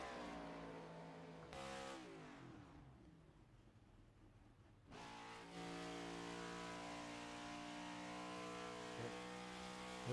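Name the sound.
race car clutching in a sim racing video game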